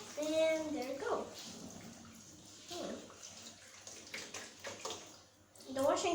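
Water poured out of the water tank of a Beko tumble dryer into a bath or sink, a splashing gush that comes and goes, with a voice talking over it.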